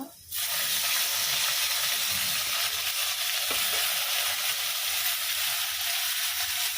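Onions and tomatoes fry in a pan for a prawn curry, giving a loud, dense, continuous sizzle that starts abruptly and holds steady close by, with faint stirring and no talk.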